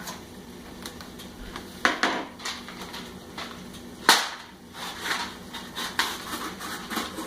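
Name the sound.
kukri knife cutting open a macaroni and cheese box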